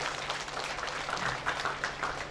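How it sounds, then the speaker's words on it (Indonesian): Audience applause at a sago noodle product launch event in Bangka Belitung, a steady dense clapping wash of moderate loudness lasting a couple of seconds with no speech. "Tepuk tangan."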